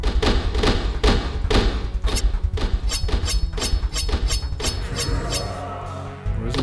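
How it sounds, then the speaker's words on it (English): Bullets striking enemies in a video game, a rapid series of sharp thuds and clinking impacts in quick succession, loud and close, with no talk over them. "Bullets hit them."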